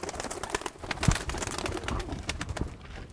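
Mardin pigeons coo inside a loft, a low throaty coo rising over a dense background of fluttering and shuffling birds, close and continuous with no talking.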